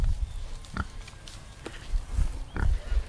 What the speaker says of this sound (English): Whoo, big piggies.